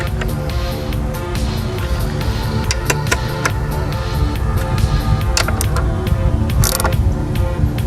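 Ratchet tightening valve cover bolts on a 2001 Cadillac DeVille engine, dense rapid clicking and mechanical rattling close up and loud throughout.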